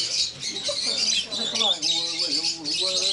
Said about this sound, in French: son espace compte 1500 oiseaux, toutes espèces confondues.